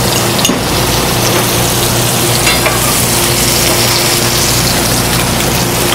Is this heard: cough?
no